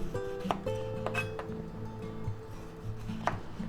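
A knife cutting the ends off plum tomatoes on a board, a few sharp, close taps spaced out over a steady background hum.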